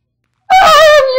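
One loud, close Minecraft cat meow, bright and slightly falling in pitch, lasting under a second after silence.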